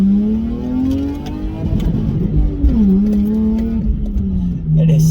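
A Lexus IS200 with a loud exhaust being driven, its engine droning steadily with a low, buzzy tone that dips and rises slightly as it cruises, close and fairly loud.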